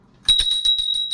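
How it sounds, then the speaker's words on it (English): A bell rings on a talk show set, a rapid series of about seven bright metallic strikes that carry a sustained high ring, loud and close with no talk. "Today is another day that this bell is going to ring."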